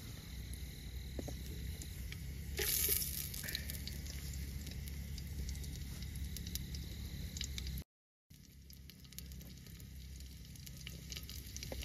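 Onion sizzling steadily as it fries over a wood-fired chulha outdoors at a forest campsite, a continuous loud crackling hiss with a brief louder flare near the start and a momentary dropout later, crickets faintly audible.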